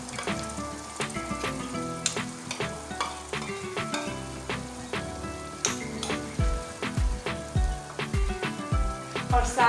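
Spiced yogurt goes into light golden frying onions, bringing a loud, crackling sizzle with stirring and scraping in the pan and occasional thumps of the spoon.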